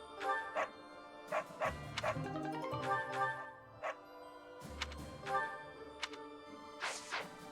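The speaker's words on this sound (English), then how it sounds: "Okay, dog." A dog barking in the video game Fire Emblem Three Houses, a string of yips and short barks with whimpers over game music, fairly faint, with a voice nearby.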